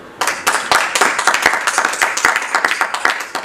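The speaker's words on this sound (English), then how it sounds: "let's give Peter a round of applause" Audience at a professorial inauguration ceremony gives a round of applause, loud, close and sustained, with distinct individual claps standing out in an uneven rhythm.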